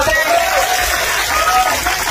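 A rally crowd at a political campaign meeting applauds and cheers, loud dense clapping with scattered whoops filling the whole moment, a voice carrying over the noise.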